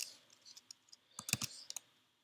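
Quiet keystrokes on a Mac computer keyboard tap in uneven bursts, with a quick flurry of sharper clicks near the end.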